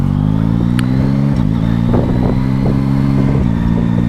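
A 2023 Yamaha Tracer 9 GT+ motorcycle is ridden and accelerates, its engine drone loud and close, rising in pitch before a brief dip at a shift, then climbing again with wind and clatter.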